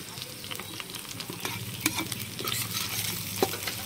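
Whole spices, including black peppercorns, mace, star anise, caraway and green and black cardamom, sizzle in a pan while a utensil stirs and scrapes them in irregular clinks, close up with no talking.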